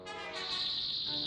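Cicadas during a mass outbreak in a neighborhood, a dense sustained high-pitched buzz that swells after a moment and holds steady and loud throughout, with no voices.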